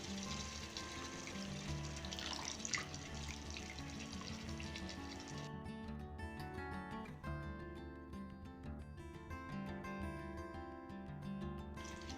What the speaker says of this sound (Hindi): अब इसमें 1 कप गर्म पानी डाल देंगे।